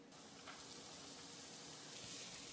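Diced onion and minced garlic stir-frying in hot oil in a pan, giving a quiet, steady sizzle with soft crackling throughout.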